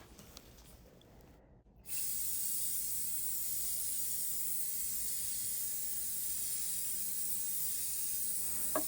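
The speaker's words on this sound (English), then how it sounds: "I keep turning the cabinet so the surface I want to coat is horizontal, and I avoid spraying the vertical surfaces." Spray painting an amplifier cabinet laid on a tarp-covered table: a brief quiet start, then a continuous loud, close hiss from the spray that runs unbroken to the end.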